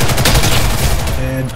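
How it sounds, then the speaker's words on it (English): A launcher weapon fired in the Call of Duty video game, a dense continuous blast of gunfire and explosive rumble for over a second before it tails off, loud and close. "Arm launcher locked and loaded."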